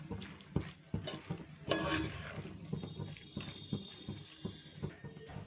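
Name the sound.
stirring tomato sauce into masala macaroni pasta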